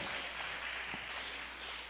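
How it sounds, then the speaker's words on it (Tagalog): Church congregation at a preaching service clapping for the Lord, a steady, distant wash of applause with no gaps for the whole moment. "Malakas na palakpak para sa mahal na Panginoon."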